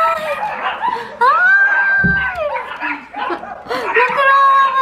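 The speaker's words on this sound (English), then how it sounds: "Look, they're all barking." Several small puppies, a bulldog and a teacup Cavoodle, yipping and barking in short bursts close by, while people laugh and talk excitedly over them.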